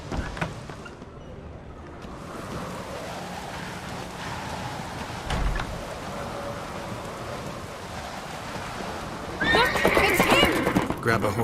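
Horse neighing and clip-clopping hooves in The Witcher 3: Wild Hunt on the isles of Skellige, with a loud whinny near the end over a steady rain-like wash and game voices.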